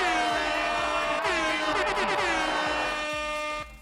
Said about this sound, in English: I really forget I have that air horn all the time